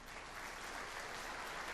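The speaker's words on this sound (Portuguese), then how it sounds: "Quer uma salva de palmas para eles?" A church congregation at a missionary conference applauds in a steady, even wash of many hands clapping, heard faint and somewhat distant for under two seconds.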